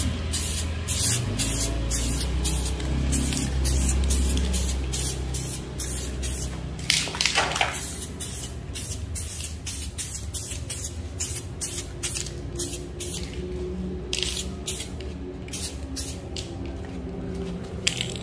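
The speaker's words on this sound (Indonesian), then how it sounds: "Nah, ini tinggal disemprotkan saja." Spray paint hisses in a rapid series of short bursts onto a Honda Vario 150 body panel in Sapporo Sapphire Black, the close pulses repeating steadily with brief gaps, no voices.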